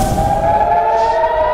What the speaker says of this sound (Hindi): इसराइल के दोनों शहरों में खतरे के सायरन बजना शुरू हो गए